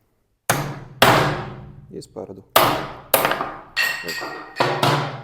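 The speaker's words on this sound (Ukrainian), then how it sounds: "І бити будемо молоточком" Sharp metallic hammer blows strike a handmade knife's spine while batoning it through a board, about six hits spaced unevenly, each ringing briefly; a voice speaks once between strikes.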